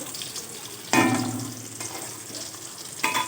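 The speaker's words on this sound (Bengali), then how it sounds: "দেখো মাছ ভাজা বসিয়ে দিয়েছে" Large pieces of rohu fish frying in oil give a steady close sizzle, with a louder burst partway through and another near the end as pieces shift in the pan; no one speaks.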